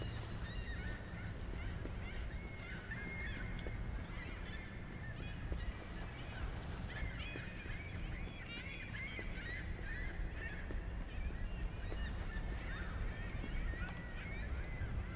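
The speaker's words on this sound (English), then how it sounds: "they look like crows, but they sound like seagulls" Crow-like birds in a spooky video game cry out like seagulls, a chorus of honking, squawking calls repeating over a constant ambient bed, faint and somewhat distant, no speech.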